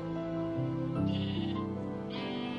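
Sheep in the Minecraft video game bleat in a few wavering, nasal calls, close and clear, with looping game music playing underneath and no talking.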